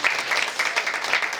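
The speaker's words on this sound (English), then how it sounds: "Please give him a round of applause." A crowd applauds steadily, a dense wash of clapping at moderate volume throughout.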